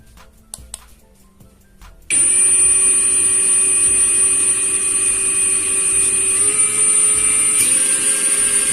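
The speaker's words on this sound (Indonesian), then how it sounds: "Jadi ini untuk pengendoran dulu ataupun pembukaan baut ataupun mur ya." A Kamolee DTW285 impact wrench, loosening bolts and nuts, starts after a few quiet taps and runs loud and continuous at a high whining pitch, with a brief shift near the end.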